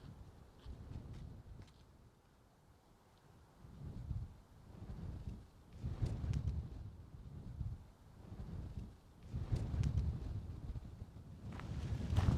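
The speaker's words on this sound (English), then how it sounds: "it is still really windy today" Gusty mountain wind in the Cairngorms buffets the microphone in rumbling low bursts that swell and fade every couple of seconds, loud and close, with no one talking.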